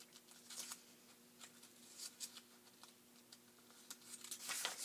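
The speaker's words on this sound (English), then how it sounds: "Let's see if I can get the page turned here." A book page being turned during a children's picture-book read-aloud, heard as quiet papery rustles and crinkles in several short bursts, growing a little louder toward the end.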